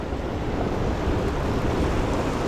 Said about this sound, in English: These deep pools and this rushing water.